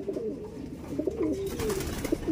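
Racing pigeons cooing close by as they return home from a training flight, a soft warbling murmur repeating over quiet outdoor background noise.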